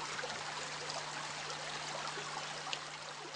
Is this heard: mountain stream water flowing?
yes